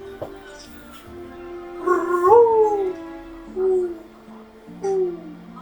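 A voice imitates a mourning dove, giving a few drawn-out, mournful hooting coos with pauses between them, close and fairly loud.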